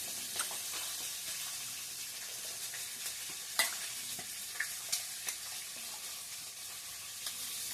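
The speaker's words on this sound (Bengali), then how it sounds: "উচ্ছে দিয়ে নিই, দিয়ে ভেজে নেবো।" Bitter gourd and potato fry in a pan, a soft continuous sizzle broken by several sharp clinks and scrapes of stirring, fairly quiet and without speech.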